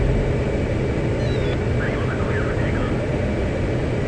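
Jet aircraft taking off in the DCS World flight simulator game, a steady, loud engine roar that fills the whole stretch evenly, with no words spoken.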